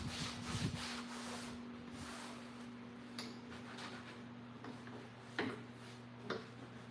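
Wax being rubbed by hand into a painted furniture surface, a soft, close, continuous rubbing and scuffing with a few light taps and knocks, over a steady low hum, with no talking.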